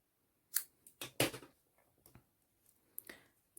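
Scissors snipping crochet yarn, a few close, crisp cutting clicks and short rustles spaced across a quiet background.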